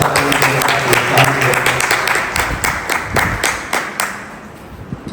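An audience at a Bhagavad Gita discourse in Chennai breaks into loud applause, many hands clapping at once, then thinning out to scattered claps as it fades.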